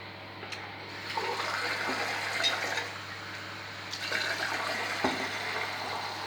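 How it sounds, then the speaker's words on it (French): Cold water runs from a kitchen tap into a hot drink in a steady, moderately loud gush lasting several seconds, with no talking over it. "Ajouter un peu d'eau froide."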